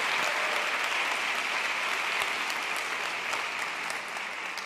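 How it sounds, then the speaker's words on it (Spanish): Steady, moderately quiet applause from an audience at a public libraries congress session, a continuous wash of many hands clapping with no voices on top, easing slightly near the end. "vamos a darles un fuerte aplauso"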